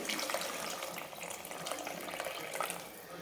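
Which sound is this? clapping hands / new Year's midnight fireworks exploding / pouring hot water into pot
pouring hot water into pot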